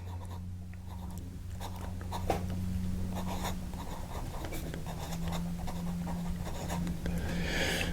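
A Wahl Eversharp Deco Band vintage fountain pen with a smooth fine nib scratches softly across paper in steady close strokes, with a faint continuous hum underneath.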